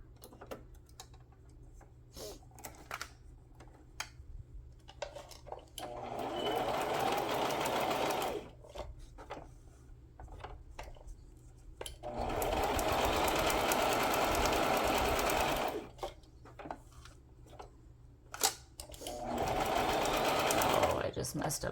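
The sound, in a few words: sewing machine stitching fabric scraps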